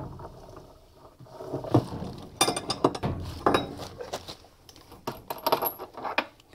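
A metal wrench works loose the drive nut on a Fisher and Paykel direct drive washing machine, giving close, irregular clanks, clinks and knocks of metal on metal with short pauses between them.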